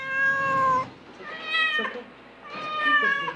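Cats abandoned with others in a second-story apartment meow repeatedly: three loud, close, drawn-out meows with short gaps between them, standing alone with no talk.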